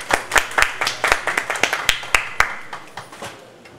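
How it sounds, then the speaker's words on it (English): Clapping at a book launch event: a small group claps in quick, sharp, fairly regular beats that fade out over a few seconds, with no voices over it. "Please give a round of applause."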